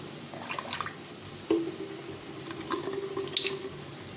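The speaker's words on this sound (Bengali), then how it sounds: "আর একটু কেওড়া জল দিয়ে এটা আমি এর মধ্যে দিয়ে দেবো।" Milk flavoured with rose water and kewra water poured into an egg biryani in a cooking pot, giving soft liquid trickles and drips, fairly quiet and close, with no talk.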